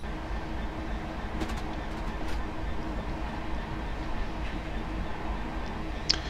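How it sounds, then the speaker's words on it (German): A freight train hauling Castor nuclear-waste transport wagons rolls past in Train Simulator 2020, heard as a steady, loud rumbling drone with faint rail clatter throughout, no speech over it. "hier kommt unser Zug durchgeschossen mit den Castor-Transportwagen und die Ford Gravita hinten nochmal dran"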